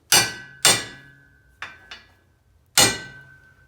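A hammer strikes a socket to seat a U-joint in a Crown Victoria drive shaft, giving five sharp metallic taps with a brief ringing tone after each, spaced irregularly with no talking.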